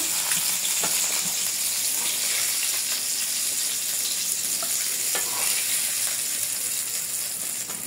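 Large pieces of a 4-kilogram katla fish fry in hot oil in a pan, giving a loud, steady close sizzle with occasional light scrapes and clicks, and no voices.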